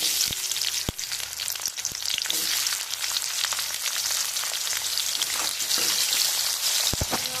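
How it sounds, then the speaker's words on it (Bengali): Onions hitting hot oil in a pan for Bengali aloo bhola fish curry, with a steady, loud crackling sizzle that runs the whole way through, broken by a few sharp pops and faint stirring clicks. "তেল গরম হয়ে গেছে, পেঁয়াজটা দিয়ে"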